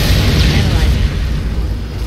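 Rocket explosions boom in the Halo video game: a single loud, deep blast rumbles and decays over about two seconds.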